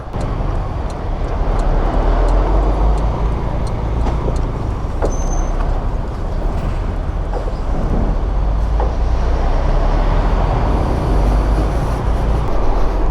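Heavy road traffic with many trucks, heard while riding a Sym Joyride 300 scooter on the road toward Surčin and Obrenovec near Belgrade: a loud, continuous low rumble of engines and wind with no talking.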